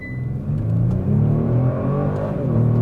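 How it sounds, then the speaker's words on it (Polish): Kia Stinger engine revving with the enhanced synthetic engine-sound setting switched on, a loud, close rising drone with layered harmonics that swells after a brief lower hum and holds steady, no talking. "tutaj mamy w ustawieniach pojazdu dźwięk silnika i teraz zrobimy sobie wzmocniony"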